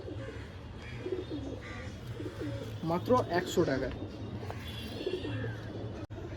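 A pigeon coos softly in low, rolling phrases nearby while someone talks over it, with a sharp click near the end.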